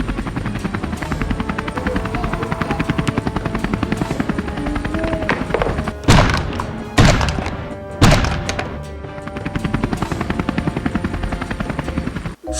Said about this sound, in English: It was Harold the helicopter.